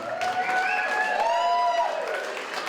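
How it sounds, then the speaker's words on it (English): A crowd applauds award winners at an evening event: a steady wash of clapping with a whistle-like tone gliding over it, continuous and moderately loud. "One more round of applause."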